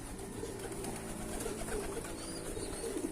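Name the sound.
fancy pigeon cooing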